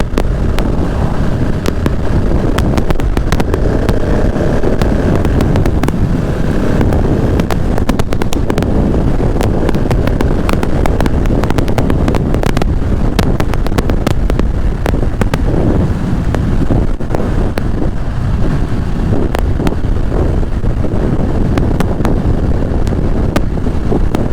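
Riding a new KTM 690 motorcycle on a breezy day, heavy wind buffeting roars loudly and continuously across the microphone with constant gusty crackle, masking most engine sound.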